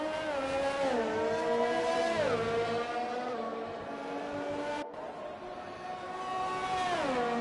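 F2 race cars in a PS4 racing game, a single high-pitched engine whine climbing and dropping with gear changes and braking, steady and loud with no talk.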